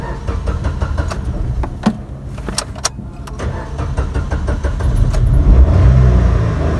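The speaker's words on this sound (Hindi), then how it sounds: "गाड़ी स्टार्ट करके चेक करवाते हैं" A Suzuki Wagon R is started after key programming, beginning with a series of sharp clicks and taps, then an engine rumble that builds and settles into steady running, loud and close.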